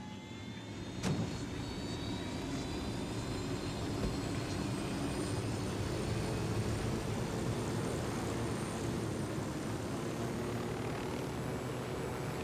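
A steady aircraft engine drone in the video game Tom Clancy's Ghost Recon Wildlands runs throughout, constant and fairly loud, with a sharp click near the start and no speech.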